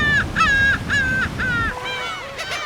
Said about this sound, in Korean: 괭이 갈매기입니다.